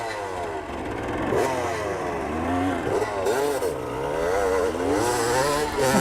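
A 1995 Honda CR250R two-stroke motocross bike revs and pulls through gear changes nearby, its engine pitch rising and falling continuously with a buzzing, wavering tone.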